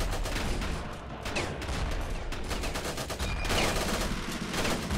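Rapid, dense gunfire from the Ravenfield video game in a World War I setting, a continuous loud barrage of overlapping shots and bursts with no talking.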